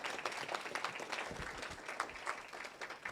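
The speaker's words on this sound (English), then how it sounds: "let's have a big round of applause for all the teams, the cast members, everyone here" An audience at a culinary engineering competition applauds the competing teams and cast, giving moderately loud, scattered clapping throughout with a few distinct sharp claps standing out.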